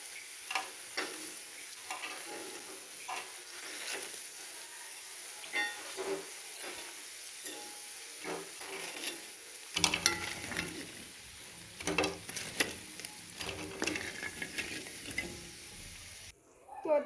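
Mustard flower pakoras sizzling in hot oil as they are stirred and lifted out, soft steady frying with scattered clinks and scrapes that grow busier and louder partway through.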